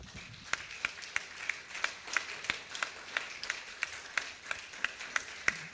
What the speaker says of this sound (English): I want you to clap for Jesus.